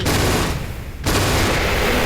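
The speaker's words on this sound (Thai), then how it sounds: "ยิงปืนใส่พวกลูกน้องกระจอกของมันเลย" Dense, continuous gunfire from a Skibidi Toilet video game, loud and rapid throughout, with a brief thinning of the barrage near the middle before it surges back to full intensity.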